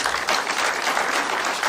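Loud, dense applause from an audience at a polytechnic press briefing, a continuous close wash of many hands clapping at once with no voices over it.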